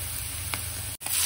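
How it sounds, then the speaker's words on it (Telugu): Ground masala paste with green chilli frying in a pan gives a brief, steady sizzle with one soft stir, cut by a momentary dropout. "బాగా ఫ్రై అవ్వాలన్నమాట మసాలా అనేది"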